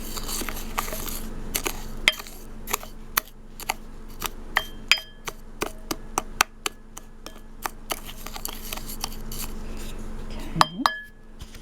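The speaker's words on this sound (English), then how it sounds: "take your spices and mix them all up together so everything is distributed fairly evenly" Spices being stirred together in a bowl for sugar-free rabbit jerky, with a spoon clinking and tapping against the dish in irregular sharp knocks over a quiet background.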